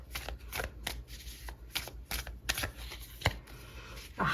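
Tarot cards being shuffled by hand in a quick, rapid riffling patter of soft papery flicks and slaps, close up and alone with no talking.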